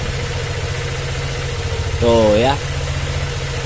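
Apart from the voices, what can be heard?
Honda Vario scooter engine idling without battery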